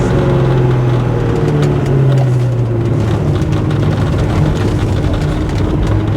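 A 1997 Ford Mustang Cobra with a 5-speed manual cruises steadily, its engine drone and road noise continuous and loud, with a low engine tone gently falling and no talking.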